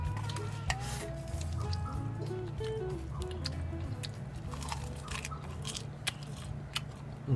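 Spicy Korean instant noodles being eaten close up, with steady wet chewing, slurping and squishy bites throughout, with no talking.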